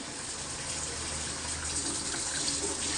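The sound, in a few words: water poured into the cooking pan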